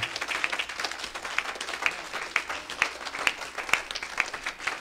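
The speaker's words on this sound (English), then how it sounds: "Clap for Jesus, clap for Jesus, clap for Jesus." Congregation clapping during a Sunday church service, with sharp rhythmic claps standing out in a fairly regular beat over a softer background of clapping and room noise, at a modest level.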